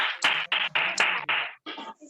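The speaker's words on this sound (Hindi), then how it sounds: "एक बार शानदार ताली होनी चाहिए, जबरदस्त ताली होनी चाहिए" An audience of meeting participants claps loudly and briskly in a dense burst of applause that pauses briefly near the end, then picks up again more softly.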